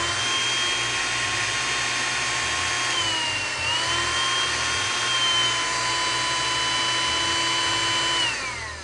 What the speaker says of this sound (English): Just a quick test once again with the blow dryer